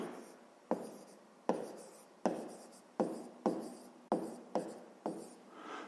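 Pen strokes on paper while writing out an equation for a fifth-grade maths exercise: a steady series of about eight scratchy writing bursts, each starting with a sharp onset and fading, close and fairly quiet with no talking.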